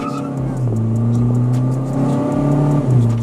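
Hyundai Verna 1.6 with Etuners Motorsports stage 1 remap launching hard, the engine revving loudly and climbing through the gears, heard up close from inside the car.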